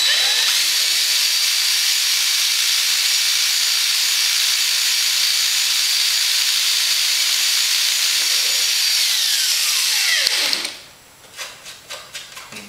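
A pneumatic drill driving a number 40 bit while building the flaps of an RV-7 aircraft wing, a long steady high-pitched whine and hiss that winds down sharply near the end, followed by a few short bursts.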